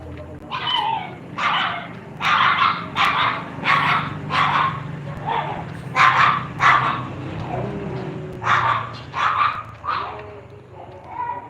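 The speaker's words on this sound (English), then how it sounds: "the dogs are barking." Several dogs barking in a steady run of loud, close barks with a few yips and whimpers, a low background hum underneath.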